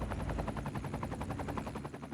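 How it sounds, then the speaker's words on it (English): A helicopter in the city-building game Cities Skylines 2 flies overhead with a steady, rapid rotor chop that pulses evenly throughout, fairly quiet and alone with no talking. "Oh, I can hear a helicopter."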